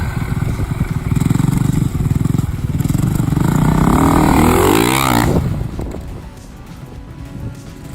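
A motocross motorcycle revs hard and accelerates through a corner, its engine note loud and climbing in pitch, then falls away and fades into the distance over the last few seconds.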